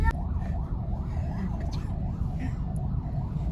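An ambulance siren wails in a continuous rising-and-falling cycle through busy Karachi traffic, moderately close, over a steady low rumble of engines and road noise.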